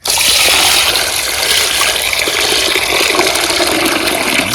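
Steady running water poured over cut pieces of large magur catfish, including the head, being rinsed at home; a loud, continuous splashing rush lasting throughout, close to the microphone.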